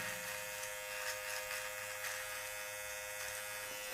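An electric hair clipper trims a beard in a barbershop, a constant close buzzing hum with faint rhythmic brushing strokes as it moves down.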